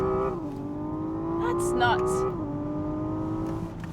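A Hyundai Ioniq 6 N electric car on a circuit gives off a steady synthetic drive tone that rises and then falls, close by and moderately loud, with tire noise and a brief remark spoken over it.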